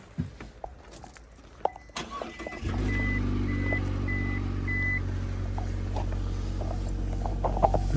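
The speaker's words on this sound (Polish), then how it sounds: "może odpalę samochód i pokażę Wam to" A Mazda 6 2.5 starts up after some faint clicks and mechanical handling inside the car, then its engine settles into a steady, fairly loud idle with a soft repeating chime above it.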